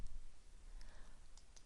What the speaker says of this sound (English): I am right-clicking